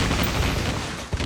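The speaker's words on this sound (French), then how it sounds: "Ah, ça me tire déjà dessus." Rapid gunfire rattles continuously toward the player in Call of Duty Mobile, a loud dense burst of shots with a sharper crack near the end.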